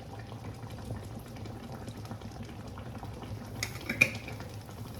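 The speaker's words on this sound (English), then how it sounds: "let's just stir it all in here" Eggplants in tomato sauce and water simmer and bubble in a boiling pot while a utensil stirs them, a low steady bubbling with a few soft clinks toward the end and no talking.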